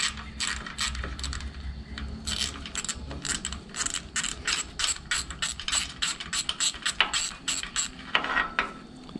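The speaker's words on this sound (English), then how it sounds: "we're going to get the zerk removed." A ratcheting socket wrench unscrewing a grease zerk fitting, producing rapid, loud, rhythmic metallic ratchet clicks in repeated bursts, close up, with brief pauses between strokes.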